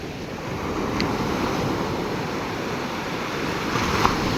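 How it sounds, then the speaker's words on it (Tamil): Ocean waves breaking on a beach, a steady loud wash of surf with wind buffeting the microphone, continuous and close with no voices. "இப்போ அலை பாரு, சூப்பராக வந்து பாரு."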